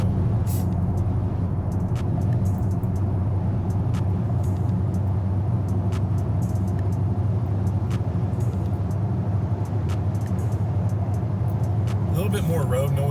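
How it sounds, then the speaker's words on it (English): Steady low rumble of road noise inside a 2023 Land Rover Defender 110 cruising on the highway, constant and close, with occasional faint ticks above it and a voice talking over it. "A little bit more road noise on the highway"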